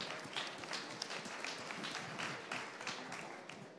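Audience applause after a startup pitch at a pitch marathon event in a hall, a steady patter of many hands clapping at moderate distance, fairly faint, with no talk over it.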